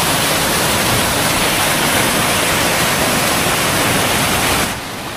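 A huge volume of river water rushes loud and unbroken in Kra Dadi district, Arunachal Pradesh. The dense roar holds steady before dropping slightly in level near the end.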